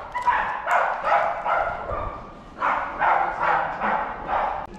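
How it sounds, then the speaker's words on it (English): Dogs bark back and forth on a street in Ireland in two rapid clusters of loud, close barks, briefly pausing between bursts. "That was like a dog battle there"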